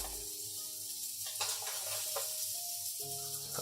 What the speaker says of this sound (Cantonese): 煎到兩邊有色，基本上可以熟噶啦